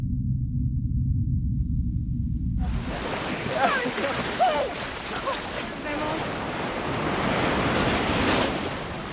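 Ocean waves wash steadily onto a beach, a broad roaring surf with wind buffeting the microphone, following a short stretch of low muffled rumble at the start; no one speaks.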